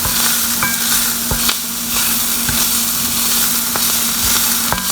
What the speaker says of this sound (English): Now let's stir that bad boy up.